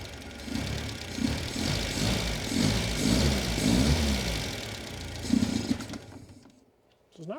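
A 1972 Plymouth Cricket engine runs roughly at close range, its steady mid-pitched drone broken by uneven stumbles and dips before fading toward near silence at the end.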